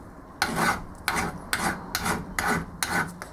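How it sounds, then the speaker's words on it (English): A hand file rasps across a small metal part for a Scotch yoke mechanism to deburr and thin it, in six steady back-and-forth strokes, close and fairly loud, with no talking. "I'm going to both deburr this and also thin it down a shade."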